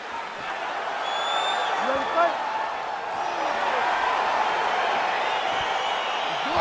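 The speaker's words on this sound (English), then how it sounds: "Crowd getting excited as this fight gets underway" Arena crowd in the EA Sports UFC 4 video game cheers and murmurs steadily at the start of a fight, a continuous wash of excited voices with faint whoops rising over it.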